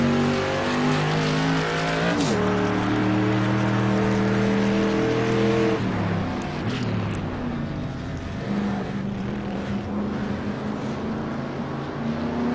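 A race car laps a track at full throttle, its engine droning loud and close with a sharp shift in pitch partway through and continuous roaring without pause.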